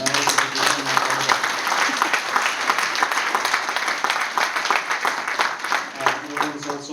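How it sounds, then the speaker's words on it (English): A conference audience gives a full round of applause, with continuous dense clapping at moderate loudness that tapers slightly and then picks up again near the end. "So could we give Lorraine a round of applause?"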